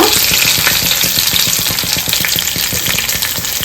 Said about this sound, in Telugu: ఈ పోపు కొంచెం ఫ్రై అవ్వాలి